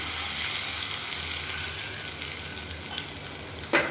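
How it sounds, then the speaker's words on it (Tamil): Hot sesame oil tempering with mustard seeds, urad dal and curry leaves sizzles steadily and loudly over onion chutney, a dense close hiss with a faint clink near the end. "இப்போ இதில் நல்லெண்ணெய், கடுகு, உளுந்து, கருவேப்பிலை போட்டு தாளிச்சிருக்கேன்."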